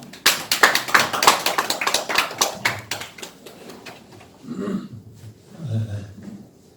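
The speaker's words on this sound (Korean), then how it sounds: "박수 한번 주시기 바랍니다." A small audience at an academic conference marking an independence-movement anniversary claps in distinct, close individual hand claps. The claps thin out and stop after about four seconds, followed by quieter breathing and voice sounds.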